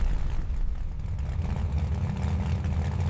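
Ford Coyote V8 fitted in a 1967 Mustang idling, a deep, steady low rumble with a choppy edge, close and moderately loud with no talk.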